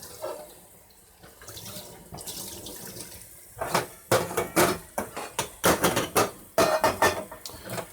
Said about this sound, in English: just a quick scrubbing all over, inside and outside